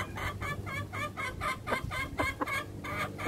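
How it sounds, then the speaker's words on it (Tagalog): Asil rooster clucking close by, a quick run of repeated throaty clucks in a steady rhythm over a low background hum. "So ito na mga ka-farmers yung nabili natin na rooster."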